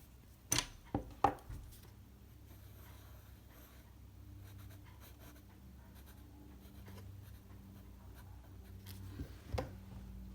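Pencil strokes scratch on paper during a figure-drawing session, a few sharp quick marks early on, then soft faint scribbling, close and quiet with no talk.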